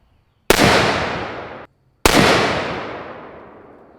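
Two sharp, loud unsuppressed gunshots from a 10.5-inch rifle, each cracking then trailing into a long fading echo, spaced about a second and a half apart with no talk.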